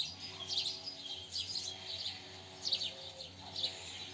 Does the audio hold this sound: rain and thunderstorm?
no